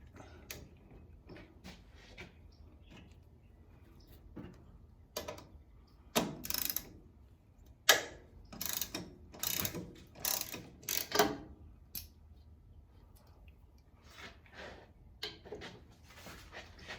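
A ratchet working off paint-covered 15 mm bolts during a 4-inch exhaust install on a Ford 7.3 OBS truck: quiet at first, then bursts of rapid ratcheting clicks and metallic clatter, close up, with no talking.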